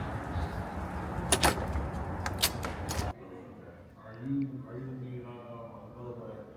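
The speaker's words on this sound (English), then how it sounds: "let's open up these big grand doors." Big grand entrance doors at a medical museum open with a few sharp clunks and latch knocks over busy room noise, then the space drops quieter as a voice speaks.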